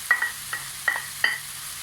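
Onion goes into a pan of chicken fried rice: a faint background sizzle broken by four short, sharp scraping clicks, like a utensil stirring against the pan, with no talk.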